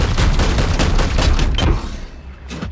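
Rapid gunfire bursts from the Warhammer 40k Chaos Gate Daemonhunters video game, loud and close, a dense volley of shots that drops off sharply near the end before one last blast.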